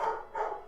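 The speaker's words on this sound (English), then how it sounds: "is the dog barking peeking up on the mic?" A dog barks twice in quick succession indoors, faint and slightly distant as picked up by a microphone.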